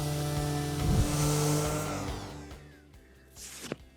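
A Ryobi 18V ONE+ random orbital sander runs loud and close with a steady motor whine that tapers off, then a short burst of rough sanding noise near the end.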